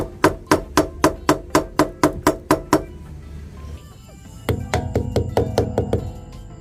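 A rubber mallet striking repeatedly in a workshop, a quick even series of sharp knocks, then a pause with scraping and a second run of slightly duller, denser blows.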